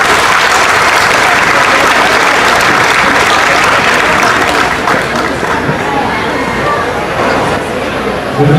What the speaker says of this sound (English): Let's give those kiddos a big round of applause as they leave.